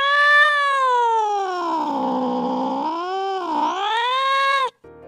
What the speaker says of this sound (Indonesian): gabungan dari suara kucing